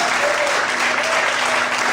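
A church congregation claps together in steady, dense applause during a Portuguese-language sermon, the sound loud and continuous for the full stretch with a faint voice or tone running underneath.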